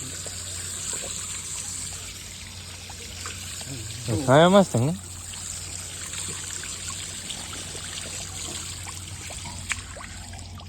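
Tap water runs steadily at a washing area in a pilgrims' camp, a constant background hiss, with a voice speaking briefly midway.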